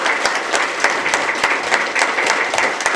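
The left half of an audience at a free foot pulse therapy camp information session claps loudly together, a thick roomful of hands with sharp, fairly regular accents landing about three times a second.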